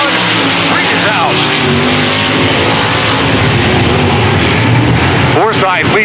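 Dirt-track race cars roar together at the green flag of a heat race, a dense, loud engine snarl with passing whines, under an announcer's voice over the track PA.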